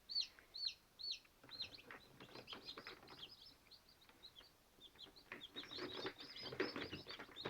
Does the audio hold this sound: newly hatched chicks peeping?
yes